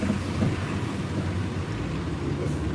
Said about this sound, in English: Everything's harder in the rain.